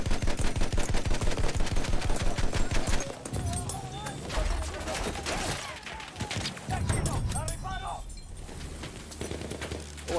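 Gunfire in the World War I shooter Battlefield 1: a rapid, evenly paced burst of close automatic shots opens loudly, then gives way to scattered battle noise and distant shots, with someone talking over it.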